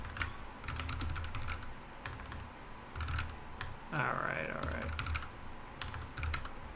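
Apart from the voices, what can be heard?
typing on a mechanical computer keyboard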